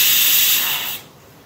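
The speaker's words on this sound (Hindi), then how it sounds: "हमने कुकर लगा दिया है और हम इसकी लेंगे विसल, ठीक है।" A pressure cooker cooking daal vents steam through its whistle in a loud, close, hissing jet that cuts off abruptly after about a second, leaving faint background noise.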